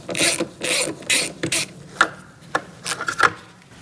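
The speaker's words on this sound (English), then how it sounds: "I'm going to take out this screw" Close, scraping ratchet-like turns come from a Torx bit socket backing a screw out of the interior door panel of a 2008-2014 Mercedes-Benz C300, in a few short bursts followed by lighter clicks.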